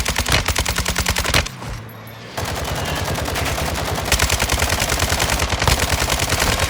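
Rapid automatic gunfire in a video game rattles loudly in dense bursts, pausing briefly before resuming as a sustained stream of close, evenly spaced shots.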